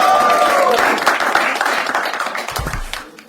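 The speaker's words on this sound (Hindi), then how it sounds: "जोर तालियां हो जाए." A live comedy game-show audience breaks into applause, which starts strong and gradually thins out toward the end, with a brief low thump near the close.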